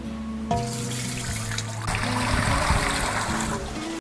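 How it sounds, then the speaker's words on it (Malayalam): About three litres of water poured from a height into a pot set on a stove, a steady rushing splash that grows fuller as the pot fills, close and continuous. "ഇനി നമ്മൾ പാത്രത്തേക്ക് ഒരു 3 ലിറ്റർ വെള്ളം ഒഴിച്ചു കൊടുക്കാം."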